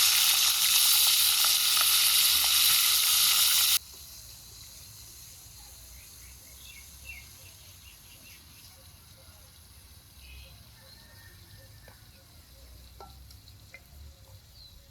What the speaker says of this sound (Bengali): গরম তেলে বেগুনের পিসগুলো দেবো,